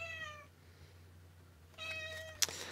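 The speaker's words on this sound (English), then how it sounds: "My cat is really mad I'm not paying attention to her when she wants attention." A house cat meows twice for attention, one drawn-out call at the start and another later, close and clear over a low indoor hum, with a sharp click near the end.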